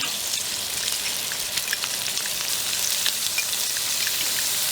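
Thyme, rosemary and garlic sizzle with a steak in a hot cast iron skillet, a steady, loud, dense crackling hiss that runs unbroken and close for the whole stretch, with no voices over it.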